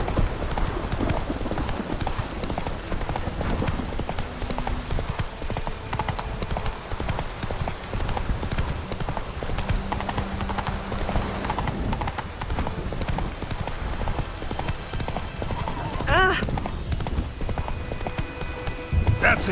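Roach the horse galloping in The Witcher 3, a fast continuous clip-clop of hooves with a brief whinny, under game music and a voice talking over it.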